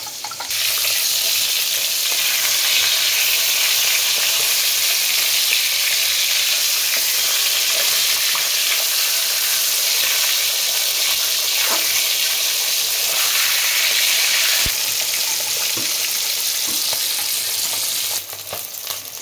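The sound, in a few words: fish frying in oil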